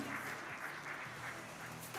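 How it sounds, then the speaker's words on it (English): An audience at a startup event claps together, a dense, moderately faint patter of many hands that stays steady for a couple of seconds. "huge round of applause for Gopal, Srinivasan, Mithun, Sacheti, and our moderator, Chandu Nair"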